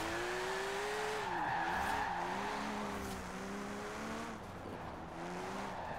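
A car's tires skid and squeal while it spins wheelie doughnuts in Forza Horizon 4, an unbroken close whine of engine and rubber that rises and dips as the car rotates, with no voices.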